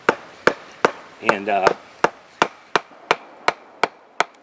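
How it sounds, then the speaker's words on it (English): A steel gouge driven by mallet into wood on a carving bench outdoors in the woods: a dozen sharp, close knocks at a steady, even rhythm. A brief word of speech is heard midway. "I've been hammering on it, beating on it with this gouge"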